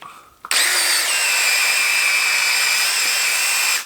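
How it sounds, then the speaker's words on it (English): A power drill fitted with a cleaning head attachment, used for car detailing on a car mat, starts abruptly and whirs at a steady high pitch for several seconds, close and loud, then stops. "and the drill head attachment."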